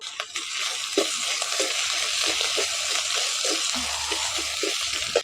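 Ground garlic and ginger paste with cumin and coriander paste hitting a hot pan of oil while cooking a jackfruit and prawn dish, a bright hiss and crackle with intermittent stirring scrapes, close and fairly loud.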